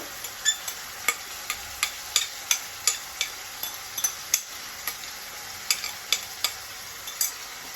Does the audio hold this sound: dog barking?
no